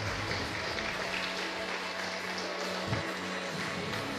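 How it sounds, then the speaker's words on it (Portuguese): A church congregation claps for the Lord during a worship service, a soft, steady patter of many hands that fills the room evenly from start to finish without a break. "Você pode aplaudir ao Senhor?"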